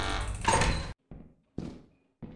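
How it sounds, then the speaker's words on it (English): A door in the video game Lethal Company closes with a loud sliding rush and thud, followed by several shorter, fading mechanical clunks in quick succession. "Oh, you're going to close the door on me, huh?"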